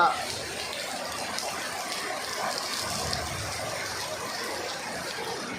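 Heavy floodwater rushes steadily through a road junction during a night rainstorm, a continuous broad gushing roar that holds at an even level throughout.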